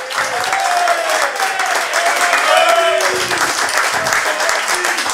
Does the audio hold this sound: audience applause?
yes